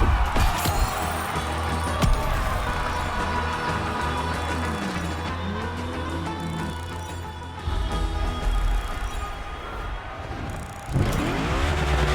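Mitsubishi Lancer Evo 9 Hoonigan version in The Crew Motorfest racing game, a steady engine drone with shifting revs and tire noise, a sharp jump in intensity near the end, game audio throughout.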